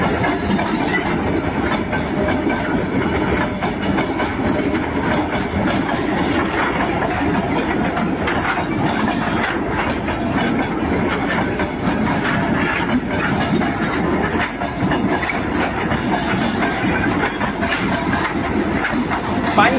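A continuous rumbling rattle of a train rolling along the rails, steady and close throughout, with a faint hiss on top.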